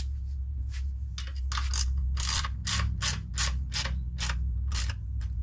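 A small ratchet clicks in rapid bursts while tightening bolts during assembly of a Vevor rolling mechanic's garage stool, close and crisp, over a low steady hum.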